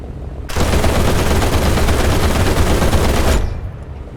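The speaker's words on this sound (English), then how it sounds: "I peppered the P-47 with bullets, but I wasn't able to get a critical hit." A sustained machine-gun burst in the War Thunder flight game, fired by a plane at a P-47 during a dogfight, loud, dense and continuous for about three seconds before cutting off abruptly.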